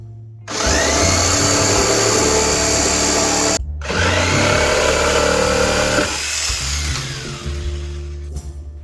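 A power saw whines loudly and close by as it cuts pieces for a model railway bridge. There are two long bursts separated by a brief stop, and the tone drops and winds down near the end.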